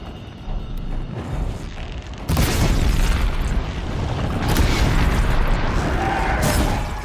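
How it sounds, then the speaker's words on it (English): Explosions in Horizon Zero Dawn roar into a sustained loud rumbling blast after a quieter lead-in, filling the rest of the moment with dense booming noise. "explosions work on everything!"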